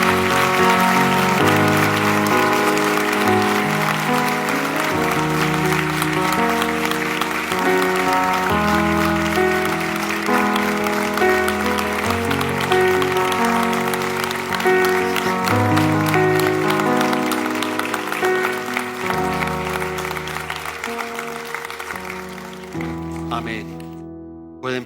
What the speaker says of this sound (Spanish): Más fuerte ese aplauso para Él.